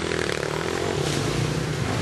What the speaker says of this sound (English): Here comes Greg Mattern on that KTM